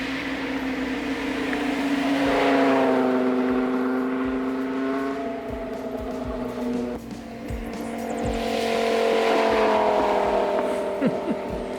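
A 1998 Dodge Viper's 8-liter V10 engine revs up and settles back twice, a deep throbbing note that rises in pitch and falls, loud and close, with faint background talk.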